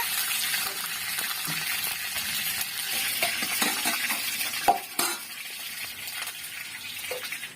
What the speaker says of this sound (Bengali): একই তেলে আলুগুলো ভেজে নিচ্ছি